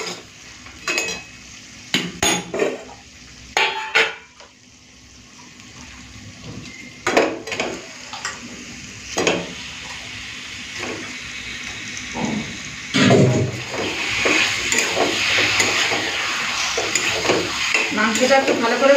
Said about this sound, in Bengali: মাংসটা একটু ভালো করে কষে নিই